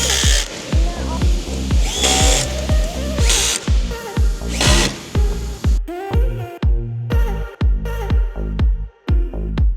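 Power drill driving screws during a robot assembly, a loud pulsing whir broken into repeated short bursts with sharp clicks, close and continuous over about ten seconds.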